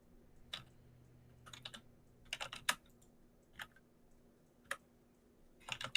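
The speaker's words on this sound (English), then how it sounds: "I can hear you typing" Keys on a computer keyboard clack in quiet, irregular bursts of clicks with pauses between them, faint against a low background hum.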